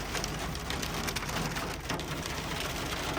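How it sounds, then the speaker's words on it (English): Hail and heavy rain from a severe thunderstorm pound a Chevy OBS pickup truck, a dense, continuous patter and drumming on the body with scattered sharper hits and no talk. "I guess we're gonna go through a hailstorm, severe thunderstorm 2 days before Christmas."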